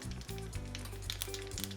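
Mustard seeds sizzle in hot oil as a tempering for poha, a short, loud, dense crackle close up that runs without a break and has no speech over it.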